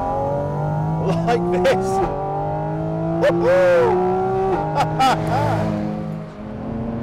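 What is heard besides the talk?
Porsche 718 Cayman GT4 RS engine revving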